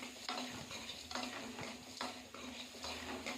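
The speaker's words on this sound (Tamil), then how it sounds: "சின்ன வெங்காயம், பூண்டு போட்டு கொஞ்சமாக எண்ணெய் ஊற்றி, அப்புறம் அடுத்தது கடலைப்பருப்பு, உளுத்தம்பருப்பு போட்டு நல்லா வதக்கிக்கலாம்" Shallots, garlic, chana dal and urad dal sauté in a little oil for guava chutney. A spoon stirs them with repeated soft scraping strokes over a quiet, faint sizzle, and no voices are heard.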